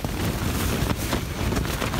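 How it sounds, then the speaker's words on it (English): Strong wind gusting 40 to 50 mph on Glacier Peak roars and buffets the microphone in heavy, continuous gusts, loud and close throughout. "It's still really windy"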